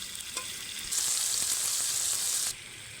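Large whole chicken leg pieces sizzling in hot oil in a kadai for biryani, a loud, steady fry that swells sharply as the pieces are turned, then drops back to a softer sizzle.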